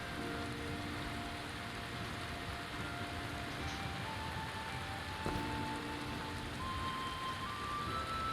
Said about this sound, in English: Wow, it's a downpour.